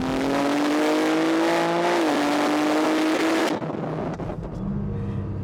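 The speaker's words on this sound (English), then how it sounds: "This AWE exhaust, these Dynon carbon fiber intakes just make the sound of this car even better." A BMW G87 M2 fitted with an AWE exhaust and carbon fiber intakes accelerates hard, its engine note rising loud and close through the gears with a brief dip at a shift before the revs drop away.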